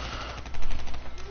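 HVK-30 assault rifle fire in a Call of Duty game, a quick rapid burst of automatic shots, close and fairly loud, lasting just over a second.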